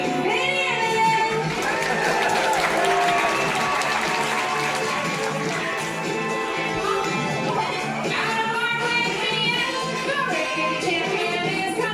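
A big audience claps and cheers steadily for Team Penny at a Georgia Aquarium show, the dense applause holding loud and even from start to finish.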